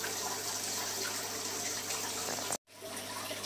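Salt water being stirred for an artemia culture, a steady continuous wash of liquid sound throughout, broken by one brief dropout near the end, with no talking.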